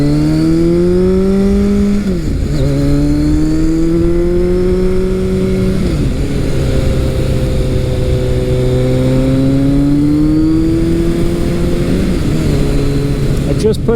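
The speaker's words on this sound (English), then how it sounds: "Just put the ART exhaust in this bike so it sounds nice." A Kawasaki ZRX1200R motorcycle with a throaty ART aftermarket exhaust accelerates through several gears, pitch climbing then dropping at each shift, loud and close with wind noise.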